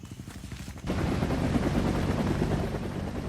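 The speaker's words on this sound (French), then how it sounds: "Une deuxième vague d'hélicoptères dépose d'autres soldats." Helicopters flying in to drop off soldiers during the Vietnam War, a rapid rhythmic rotor thump that swells abruptly to a loud, dense roar and stays close and continuous, with possible gunfire mixed in.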